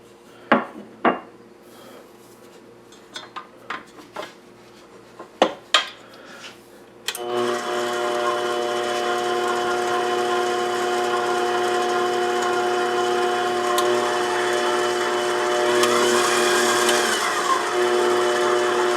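A stand mixer kneads sourdough pita dough of flour, salt and olive oil: a few clanks and knocks first, then the motor starts and runs as a loud, steady whirring hum.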